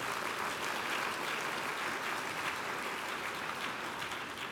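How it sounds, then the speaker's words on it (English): An indoor audience claps steadily at a formal event honoring scientists, a dense, even wash of applause from many hands that holds at the same level throughout. "Your applause is well merited."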